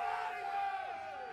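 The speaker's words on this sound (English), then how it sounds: "How about a cheer for the Bison?" A large crowd cheers and yells for the NDSU Bison football team at a pregame event. The roar is steady and fairly loud throughout, with whoops and bellowed voices blending together.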